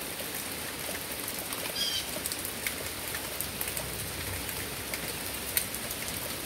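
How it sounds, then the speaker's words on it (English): Hail and rain falling outdoors on a spring day, a steady dense broadband patter throughout with a few sharper ticks of stones hitting surfaces. "So that's it guys, the hail."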